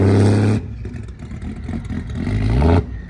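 A car engine at the SEMA 2025 show revs loudly and close by with a lumpy, tractor-like rumble from a cam, dropping to a rough idle and then climbing in a sharp rev before cutting off.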